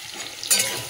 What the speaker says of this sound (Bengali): দেখো আলু বেগুনটা একটু তেলে নেড়ে নিয়েছি